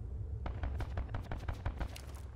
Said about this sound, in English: He's killing with the VKM, that sounds like.